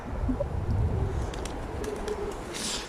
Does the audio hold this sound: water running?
no